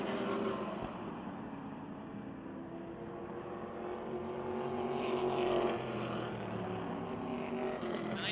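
Lincoln Welders modified race cars battling at a speedway, a continuous engine roar from across the track that builds to a louder pass around midway and then settles into a steady drone.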